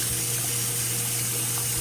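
Tap water runs steadily into a sink as a wave brush is rinsed under it, a constant close rushing with no voices.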